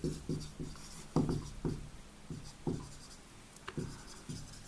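Chalk or pen writing on a board during a Class 12 chemistry lesson, a series of short scratchy strokes in an irregular rhythm, close and moderately quiet, with no talk over it.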